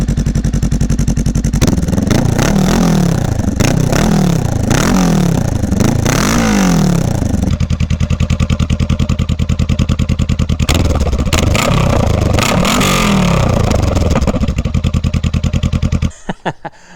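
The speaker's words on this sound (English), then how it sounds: "this is Honda Rebel 500 stock exhaust" Honda Rebel 500 motorcycle on its stock exhaust, loud and close, revving repeatedly in rising and falling bursts, then settling to a rumbling idle with a few more blips before cutting off near the end.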